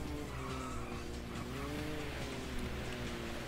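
Sega GT racing game car sliding into a spin, with a constant loud engine drone and tire squeal throughout.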